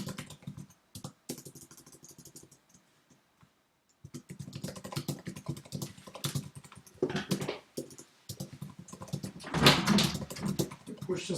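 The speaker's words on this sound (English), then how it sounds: "Well, I'll just type this." Irregular bursts of clicks from a computer keyboard being typed on, close and moderately loud, broken by pauses and mixed with children's voices talking.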